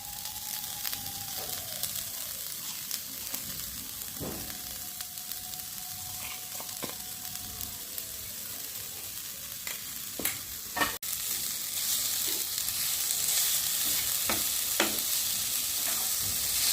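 Semolina fried with jaggery and grated coconut sizzles steadily in a pan while a spoon scrapes and stirs in occasional clicks and knocks, the frying growing a little louder toward the end, with no talking.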